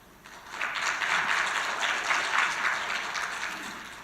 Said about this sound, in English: Yes, please, big applause.